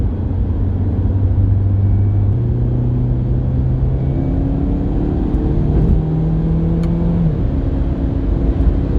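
A Mini Cooper S with a JB+ piggyback tune, in sport mode with manual shifting, accelerates through gears with a steady, loud in-cabin engine drone and rumble whose pitch climbs and then drops at each shift, with no talking.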